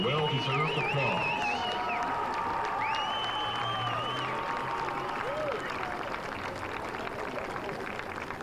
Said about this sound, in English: Please give them a well-deserved applause.